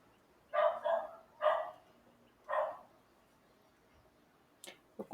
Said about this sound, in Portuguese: Olha lá, cachorrada. Quem sentiu falta da cachorrada?